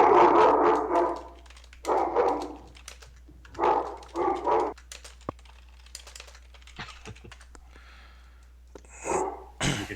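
A dog barks in short bursts, somewhat distant and muffled behind a steady low hum, with quiet gaps and clicks between the barks.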